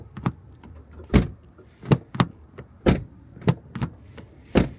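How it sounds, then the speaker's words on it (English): Door handles on a 2024 Mazda 3 sedan are pulled repeatedly, giving about ten sharp, hollow clicks and clunks at uneven intervals, close and fairly quiet, with no one speaking. "The opening sound of the door handles is what's hollow."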